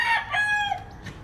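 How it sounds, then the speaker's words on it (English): Several roosters crow in the distance, their drawn-out calls overlapping faintly against a quiet outdoor background. "you can tell by all the roosters that you can hear in the background"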